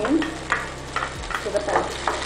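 Spring onion frying in hot oil in a pan for egg noodles gives a steady sizzle, with a few soft scrapes and stirring knocks close by.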